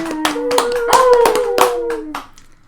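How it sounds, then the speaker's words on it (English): A pack of people clapping their hands together, a scattered burst of claps mixed with faint voices that fades out near the end. "Your pack howls and claps for you."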